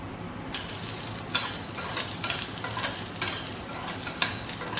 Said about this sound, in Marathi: आता पहिल्यांदा हे शेंगदाणे आपण भाजून घेत आहोत. स्टीलची कढई ही फार पटकन तापते